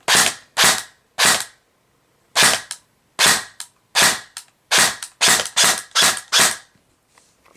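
A Dboy Scar L airsoft electric gun fires a dozen sharp single shots in irregular bursts of one to three, loud and close, with brief quiet gaps between them.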